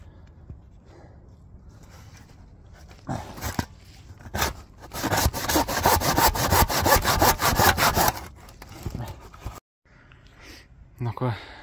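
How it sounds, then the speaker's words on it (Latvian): A hand saw cuts through a wooden block in quick rhythmic back-and-forth strokes, close and loud, with scattered voices before and after. "Zāģēt klucīti, ļaujams, lai var piepacelt mašīnu."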